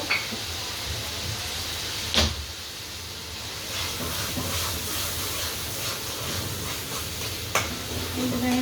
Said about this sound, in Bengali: এখন মশলাটাকে কষিয়ে তারপরে মাছটা দিয়ে দিব